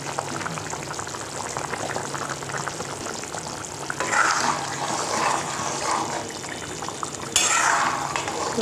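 Soybean chunks simmer in gravy in a pot, giving a steady bubbling, sizzling cook that grows busier and louder partway through, with no talk over it.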